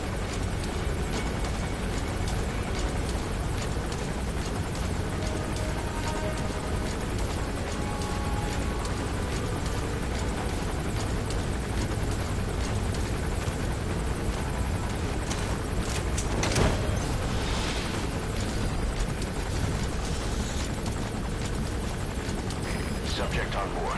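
A gunship helicopter in Metal Gear Solid V: a continuous, loud rotor drone that holds steady throughout, with in-game voices and other game sounds faintly mixed beneath it.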